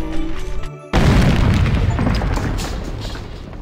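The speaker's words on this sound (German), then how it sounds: "diese Etage wurde gesprengt" A floor blows up in the video game Lucky Tower Ultimate, a sudden heavy boom that cuts in after quieter game sound and then rumbles on loudly for a few seconds.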